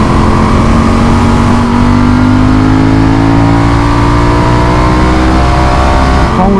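A motorcycle running without its dB killer exhaust baffle revs loud and raw, its pitch climbing steadily over several seconds in a harsh, sustained blare with no talk.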